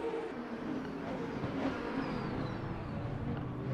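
A KTM GTX race car racing at Spielberg in the RaceRoom sim gives a steady, loud engine drone that holds at an even pitch for the whole stretch, with faint rising tones and no pauses.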